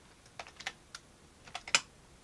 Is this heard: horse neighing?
no